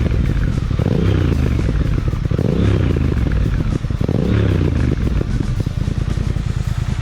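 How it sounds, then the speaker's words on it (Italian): Triumph Speed Twin motorcycle exhaust rumbling at night, a deep continuous low throb with repeated swells as the engine is blipped, loud and close with no voices. "mi fermo ad ascoltare il suono cupo che gli scarichi fanno, rompendo il silenzio della notte"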